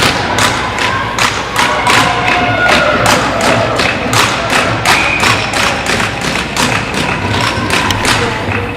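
Hockey players on the Stanstead 16U bench bang sticks, clap and cheer during a game at Brown University, a rapid run of loud thuds and claps over a rink crowd roar, close and sustained.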